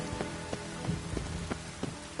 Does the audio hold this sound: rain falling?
yes